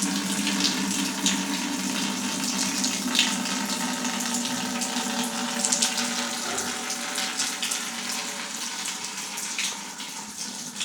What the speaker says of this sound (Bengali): ওখানে পানিটা পড়তে থাকবে